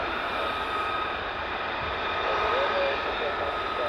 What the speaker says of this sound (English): Got 4 F35s, so that's 4.